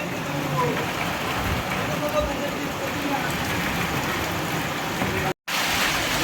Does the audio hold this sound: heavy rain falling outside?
yes